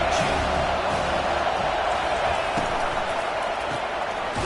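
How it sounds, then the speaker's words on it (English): A college football stadium crowd at a Notre Dame game gives off a steady, dense roar that fills the whole stretch, holding at a loud, even level. "this crowd is turning it up a notch"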